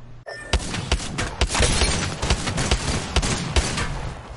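Video game gunfire cracks in rapid, loud bursts of sharp shots at a fast, steady rate, close and punchy, with a brief silent gap near the start.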